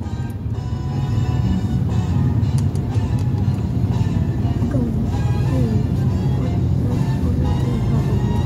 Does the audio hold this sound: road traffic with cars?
yes